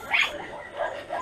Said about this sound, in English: behind the fence, they're very brave and yelling out at our dogs.